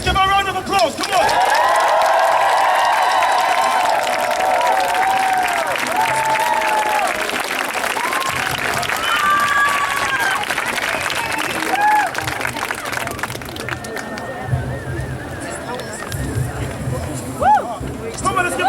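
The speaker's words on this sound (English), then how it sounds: "Let's give her a round of applause, come on!" Crowd at an outdoor Child Q demonstration applauds loudly, sustained clapping with shouts and whoops that gradually thins into scattered claps and crowd chatter, a whistle-like cry rising near the end.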